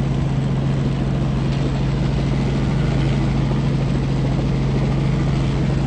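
Helicopter hovering and circling overhead during aerial news filming of a protest near the Prime Minister's office, a loud steady rotor drone with a low throbbing hum throughout, no voices.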